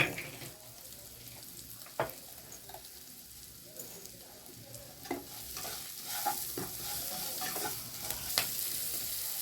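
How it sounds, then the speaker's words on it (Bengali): Steady sizzling of spices and dried Bombay duck fish frying in a pan, with occasional scrapes and clicks as it is stirred, fairly close and moderate in volume. "মশলা মাছ সব ভাজা হয়ে গেছে"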